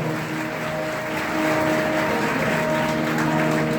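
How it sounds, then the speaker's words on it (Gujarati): Audience applause at a Bhagavat Saptah religious gathering: a dense, continuous wash of clapping that swells slightly after the first second, with steady sustained tones running beneath it. "એક વખત આયોજનને જોરદાર તાળીઓના નાદ સાથે વધાવો"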